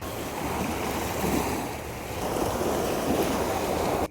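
Evening surf washes onto Mae Phim beach in Rayong, a continuous broadband rush of waves with gentle swells and some wind, steady and moderately loud with no voices.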